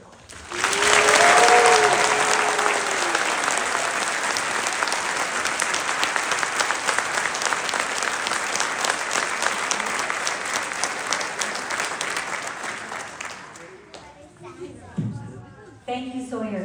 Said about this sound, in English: Please join me in giving Sawyer another round of applause.